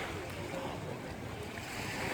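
Steady surf and wind at the Akçay Merkez Kordon beach seafront in Turkey, a continuous wash of waves with wind noise on the microphone and no talk.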